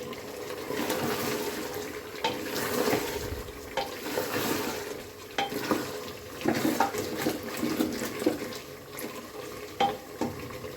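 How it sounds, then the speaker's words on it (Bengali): Water is poured into a pot of cooked meat and potato curry, a splashing, gurgling stream mixed with stirring and sizzling, moderately close and without talk. "এখন পানি দিয়ে দিব"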